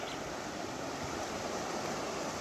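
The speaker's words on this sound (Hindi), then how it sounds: "ये देखिए, एक बहुत बड़ी रिवर है" Large Saryu river flowing at the Baijnath barrage near Kausani, Uttarakhand, heard as a steady, faint broadband rush of water that stays even throughout, with no talking.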